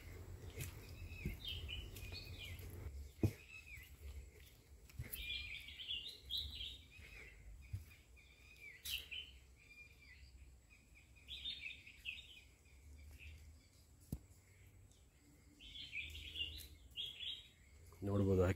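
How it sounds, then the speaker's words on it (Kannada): Birds chirping around a large sacred tree in a quiet, lonely spot, with repeated bright calls in bursts from moderately close, over a faint low background hum. "ಹಕ್ಕಿಗಳ ಕಲರವ ಎಷ್ಟು ಚೆನ್ನಾಗಿದೆ"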